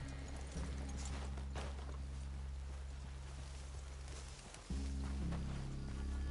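Horses walk in Red Dead Redemption 2, a steady clip-clop of hooves over a low droning ambience with brief rustles and a short dip before the sound resumes.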